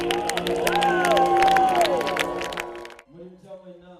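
A church congregation in Paraguay cheers and claps for a choir, with raised voices and whoops over scattered clapping that cut off abruptly near the end, giving way to quieter voices.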